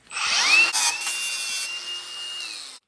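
Power cutting tool slicing off a front suspension part on a 1970 GMC C2500 truck, a loud close whine that rises in pitch, holds steady for about two seconds, then cuts off abruptly.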